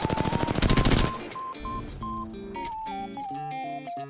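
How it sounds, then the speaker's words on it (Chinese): Rapid automatic gunfire from an R-99 style weapon in the Apex Legends shooter game bursts loudly for about a second, followed by distorted electronic game effects and tonal interface sounds. "我就听到砰砰砰砰砰砰砰砰砰砰砰"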